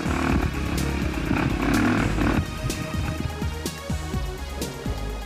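An enduro motorcycle engine revs hard on a race track at a Lowveld Enduro round, loud and close with rising and falling pitch, then drops to a lighter, rhythmic throttle pattern.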